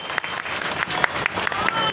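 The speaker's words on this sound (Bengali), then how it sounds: "হাততালি দিই সকলে মিলে।" A gathering claps at a panchayat launch event, with fairly loud, irregular hand claps from a modest crowd and a voice or two audible underneath.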